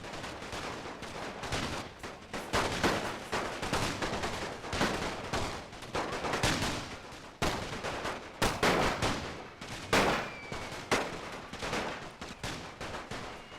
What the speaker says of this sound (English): Still exchanging fire with the light infantry.